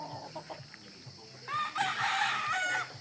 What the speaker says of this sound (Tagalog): Nangulugon ang manok.